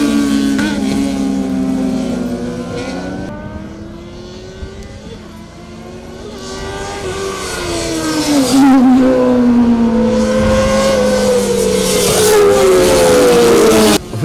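Superbike motorcycles racing at a local race meet, engines whining and shifting pitch as bikes pass, loud and continuous with rising and falling revs.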